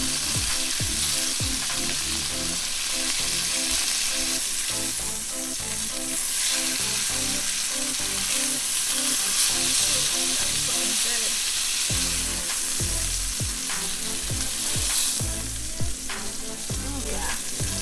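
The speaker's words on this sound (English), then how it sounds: "Give the steaks a flip." Steaks sizzle loudly in a frying pan after flipping, a dense steady crackle and spit with occasional knocks and scrapes from the pan, running continuously without talk.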